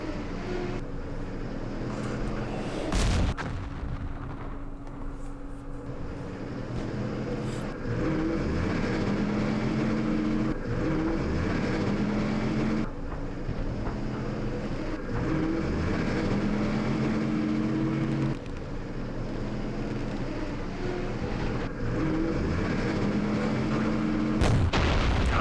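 Artillery fire in the wargame Campaign Series West Front, set around Aachen on the West Wall: repeated distant booms and rumbling engine-like drones, a sharp blast near the start and another at the end, with no talking.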